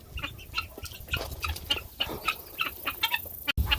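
Backyard chickens clucking repeatedly in short irregular bursts at close range, several birds calling over one another with a low outdoor rumble underneath.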